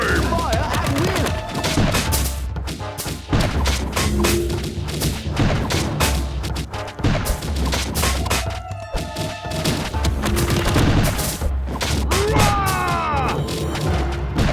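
Musket tower volleys crack repeatedly in the video game Kingdom Rush, dense overlapping gunfire and thuds layered over battle effects and game music throughout.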